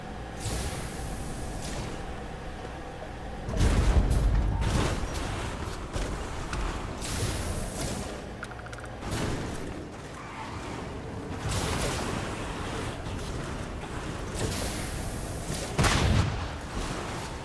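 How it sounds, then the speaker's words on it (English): Rapid bursts of gunfire from a sci-fi shooter video game as players blast aliens, heavy booming volleys repeating every few seconds over a steady bed of game noise, loud and close. "We're shooting aliens."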